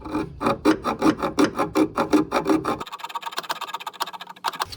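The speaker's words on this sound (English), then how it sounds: "now I'm going to be on a hacksaw, which I mentioned earlier" A hacksaw cuts through a steel brake line pipe in about a dozen even back-and-forth strokes, loud and close, then shifts to lighter, quicker rasping scrapes.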